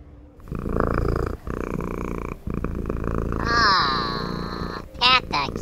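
A cat purrs while being petted, a low rumbling purr running steadily under a person's talk, with a brief higher whining sound near the end.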